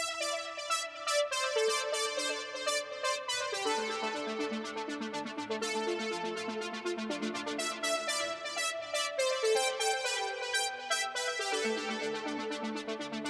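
A bright, plucky synth stab preset plays a catchy lead line of quick, rhythmic repeated notes that step up and down, loud and dry with no voices.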